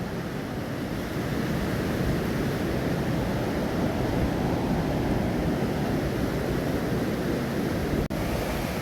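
Sea waves roll against the shore near Scarborough in a continuous broad roar mixed with wind buffeting the microphone, steady throughout with no distinct individual crash.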